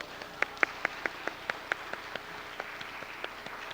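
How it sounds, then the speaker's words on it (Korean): Light applause at a Sunday church gathering: scattered hand claps, fairly faint and roomy, a few sharper claps early that thin out to sparse, quieter claps. "박수 좀 쳐주세요"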